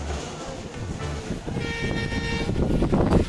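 A train rolls along toward NJP, its carriage rumbling steadily with rhythmic clatter while a horn-like tone rises in the second half, heard from on board at moderate loudness.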